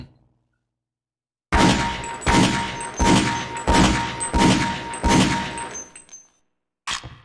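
Six sharp pistol shots fired in steady succession with the laser sight switched off in Half-Life: Opposing Force, each a loud metallic crack with a ringing tail, then a brief seventh burst after a pause.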